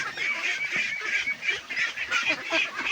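Ducks feeding on bananas and rice bran give repeated nasal quacks and honks in quick succession, fairly close but moderate in level, with no talking.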